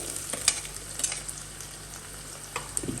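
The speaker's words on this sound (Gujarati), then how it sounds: "ત્યારબાદ આપણે એમાં ટમેટું ઉમેરી દઈએ" Chopped tomato cooks in a pan of frying onions, giving a soft steady sizzle with a few sharp scraping stirs of a spoon, close and without speech.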